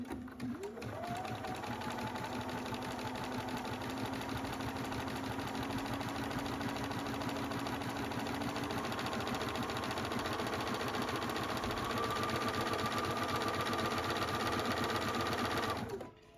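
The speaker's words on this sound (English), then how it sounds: "I'm gonna continue to sew as I pull on the fabric and stretch it." Close up, a sewing machine runs in one continuous, steady whir as stretched fabric is stitched into a lettuce hem, with a faint change in motor pitch partway through and no speech.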